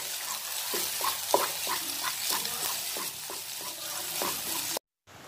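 Egg is stirred into chopped leafy greens in a hot pan: a bright sizzle runs under rhythmic scraping strokes of a spoon, about a dozen in steady succession, ending abruptly.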